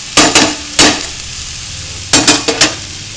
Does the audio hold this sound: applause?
no